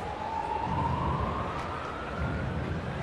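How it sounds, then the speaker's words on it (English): An alarm siren sounds inside a baseball stadium, a thin rising tone faintly audible over the steady, dense roar of the crowd. "You hear a little siren in the background. There's an alarm that has gone off."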